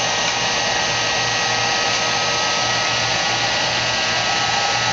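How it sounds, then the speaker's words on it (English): A heat gun running on its low setting to shrink tubing over LED strip light wire leads, producing a loud, steady, unbroken blowing hiss and whir from start to finish. "I'm gonna take my heat gun. I'm gonna go on low."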